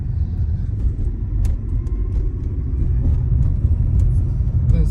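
A 2002 Honda Accord with a cylinder misfire climbing a slope, a steady low engine rumble with road noise and faint clicks, close and continuous without talk.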